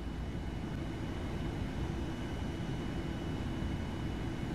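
Steady, loud roar of a Boeing 787 on landing approach in the P3Dv5 flight simulator: constant broadband engine and airflow drone with no distinct events, continuous throughout.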